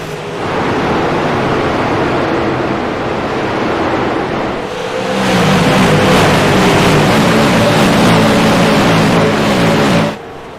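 Short-track race cars roar loudly past after a green-flag restart at Nashville, a dense, continuous engine blare that swells midway and then cuts off abruptly.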